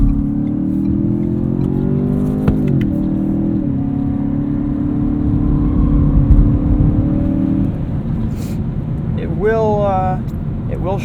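A 2017 Ford Fusion Sport's engine runs loud and close in sport mode, its pitch climbing and then stepping down as the paddle shifters change gears, with a steady drone. A driver speaks briefly near the end.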